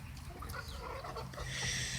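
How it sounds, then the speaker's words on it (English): Chickens and a big rooster cluck and squawk in a backyard run, several short calls scattered across the moment at moderate distance over a soft background hum. "That's a big fat rooster there."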